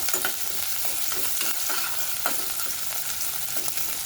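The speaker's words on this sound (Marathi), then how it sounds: "हा कांदा आपल्याला छान असा भाजून घ्यायचा आहे" Onion and spices sizzling in a pan with steady frying hiss and frequent stirring scrapes and clatter, close and alone without talk, for a Marathi shepu dal.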